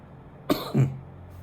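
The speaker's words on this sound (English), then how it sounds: "That is a smoker's cough." Two short, rough smoker's coughs a moment apart, the second deeper and longer, then quiet.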